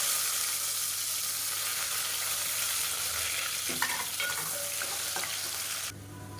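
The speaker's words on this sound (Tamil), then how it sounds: "சோம்பு நல்லா பொரியுது வெங்காயம் பெரிய வெங்காயம் நீளமாக நறுக்குனது மெஷரிங் கப்பில் ஒரு கப் அளவுக்கு சேர்த்துக்கோங்க" Sliced big onions and fennel seeds sizzle steadily in a pan for mushroom biryani, a dense continuous frying hiss with occasional stirring clinks near the end.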